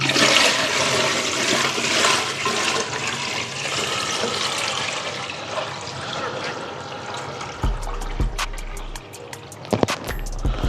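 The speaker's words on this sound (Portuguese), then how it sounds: "vou colocar água direto da torneira" Tap water pours steadily into a home aquarium tower, a loud continuous rushing splash that thins toward the end into trickles and a few clicks, with no talk.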